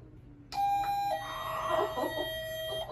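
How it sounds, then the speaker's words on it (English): An electronic doorbell chime rings out, a sustained melodic tone sequence with ringing harmonics, loud and close, following a short quiet moment. "Go press the doorbell."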